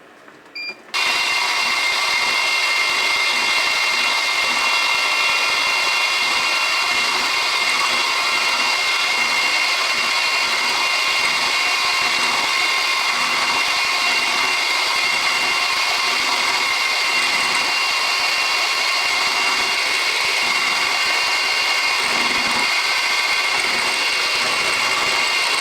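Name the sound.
machining to flatten the top corner of a tool holder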